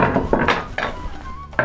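A knife chops onion on a cutting board in a home kitchen, several sharp, close knocks in an uneven rhythm with no talking.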